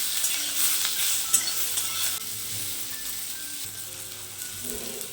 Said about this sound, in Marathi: टोमॅटो टाकून परत आपण टोमॅटो मऊ होईपर्यंत भाजून घेऊ